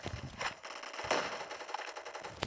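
Rapid bursts of video game gunfire, fairly faint, with a loose run of sharp repeated cracks over a couple of seconds and no voices.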